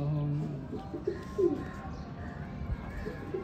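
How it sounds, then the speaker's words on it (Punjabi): Pigeons coo on a rooftop near a net enclosure, a few soft, low throaty calls close by over quiet background hiss. "ਇਹ ਹੈ ਕਬੂਤਰ"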